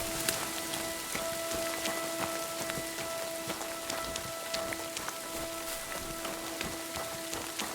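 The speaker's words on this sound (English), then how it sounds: "Early morning, everything is raining." Continuous early-morning rainfall in the woods in Kingdom Come: Deliverance 2, with sharp individual drop ticks over a faint steady tone, even and unbroken throughout.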